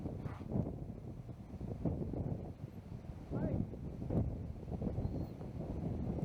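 A headwind gusts across an open disc golf course at Bethells, buffeting the microphone with low rumbling surges while people talk over it.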